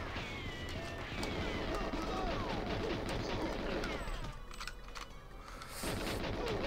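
Rapid AK rifle fire in the video game GoldenEye 007, a dense rattling burst that runs almost continuously under game music and effects, easing off briefly near the end before picking up again.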